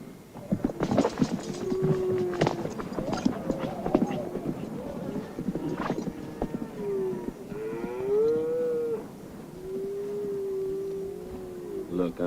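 Cattle moo in a rural farm setting, several drawn-out lowing calls rising and falling over a steady background, with scattered knocks and some hoof-like clatter.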